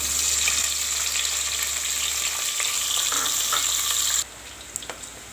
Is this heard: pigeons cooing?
no